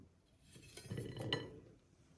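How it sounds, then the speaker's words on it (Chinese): Sliced thawed nian gao rice cake pieces set down onto a plate, a soft cluster of light clinks and ceramic taps in the middle of the moment, fairly close and with no talking. "切好之后放入盘中"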